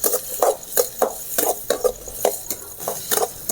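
Small shallots and green chilies are stirred in a pan, with a quick series of sharp spoon-on-metal scrapes and clinks over a light sizzle, close and steady, and no voices.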